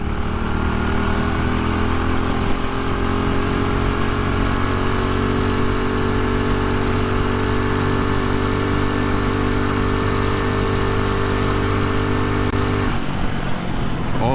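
A 420cc mini bike engine screams at full throttle, a loud continuous high-revving drone with steady harmonic whine that holds for most of the run before dropping off abruptly near the end.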